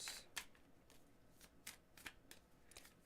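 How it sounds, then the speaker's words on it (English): Just a few tarot cards are shuffled by hand, making several soft, close riffling flicks at an uneven rhythm, quiet with no voices. "It's so funny when you only have a few and you're trying to shuffle them."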